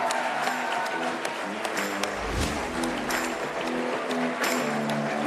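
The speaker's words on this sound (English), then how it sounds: "Give them a round of applause." Crowd applause and cheering for the Thailand men's team at a flag football world championship opening ceremony in Jerusalem, a sustained roar of clapping with music-like tones underneath, loud and continuous.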